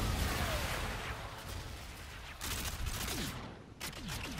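Rapid automatic gunfire bursts in a Call of Duty Infinite Warfare 3v3 match, loud and close, with dense rattling volleys and brief gaps, no voices over it.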